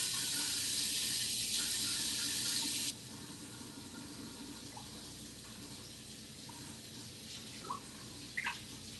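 A kitchen tap runs with a strong close gush of water that then drops to a softer trickle, with faint clinks near the end.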